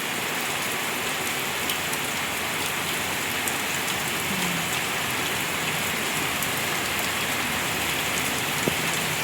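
Steady rain pours during a typhoon, a dense, even hiss of drops on surfaces that stays loud and unbroken throughout, with no voices.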